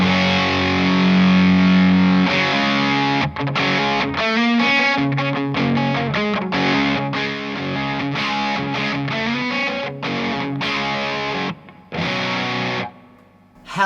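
Overdriven electric guitar played through an amplifier with an OCD overdrive pedal, loud and distorted chords and riffs with short gaps, steady and close with no talking.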